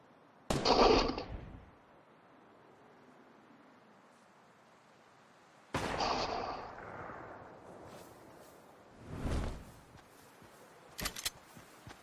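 Video game gunfire: a few separate loud shots spaced several seconds apart, each with a rough, decaying tail.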